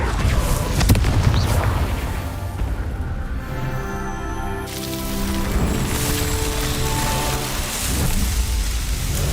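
The Confringo fire spell explodes in Hogwarts Legacy, a deep rumbling boom that swells then fades into a crackling, rain-like wash over about nine seconds, with no voices.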